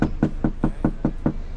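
Seven firm knocks on a door in an even, quick rhythm, close and clear with no talking.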